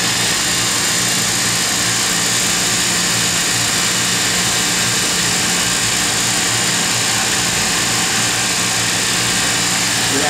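An IQDT 80 vacuum pump backing the turbo pump of a plasma etch chamber runs with a loud, constant mechanical drone and broadband hiss, unchanging from start to finish with no talk.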